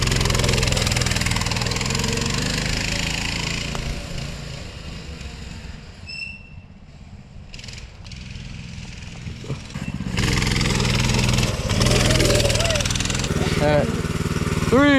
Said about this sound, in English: you think that helps if I hold it and rev it when it goes or not?